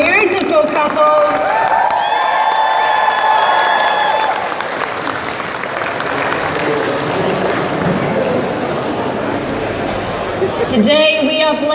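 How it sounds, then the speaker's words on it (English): Crowd applause and cheering at a wedding ritual in the video game Cult of the Lamb, a dense, loud clapping roar under tonal game music that sustains for several seconds before fading as a synthesized chime returns. "Applause for our beautiful couple."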